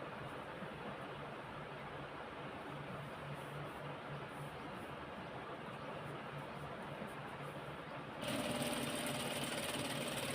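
Sewing machine stitching a lungi, a steady close mechanical whir with a rhythmic hum that runs without pause, then shifts to a louder, brighter tone near the end.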